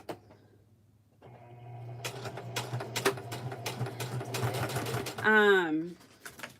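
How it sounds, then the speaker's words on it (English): A sewing machine backstitches through a handmade journal, a close rapid mechanical whir of stitching that ends in a short rising and falling whine, with talk mixed in. "I should have backstitched. We'll backstitch now."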